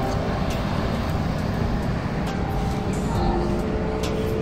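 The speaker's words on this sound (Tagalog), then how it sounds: "Medyo busy na yung kahabaan ng Ruas Boulevard." Traffic moves along busy Roxas Boulevard in Manila beside the bay as a continuous dense roadway roar, with engine rumble and passing vehicles blending together at a steady loud level.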